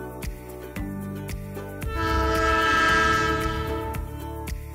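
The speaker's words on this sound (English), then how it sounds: "Now, what if the train moves away?" A train horn sounds loudly as a moving train passes and pulls away, its sustained tone swelling then sliding lower, with rhythmic clickety-clack of wheels on rail joints and rumbling wagons underneath.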